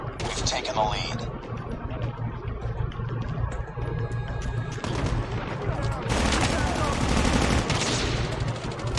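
Dense video-game gunfire in GTA, with rapid shots and bursts crackling throughout over engine rumble and game sounds, while a player talks over the action.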